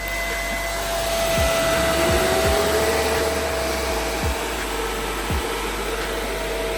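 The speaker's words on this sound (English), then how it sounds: "I know these fans are loud" Loud computer case fans whir in a continuous airy rush with a steady tonal whine, close up and unchanging, with a few faint clicks beneath.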